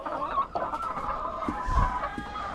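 Chickens cluck softly and steadily in a barnyard, with scattered calls over a constant background hum and no talking.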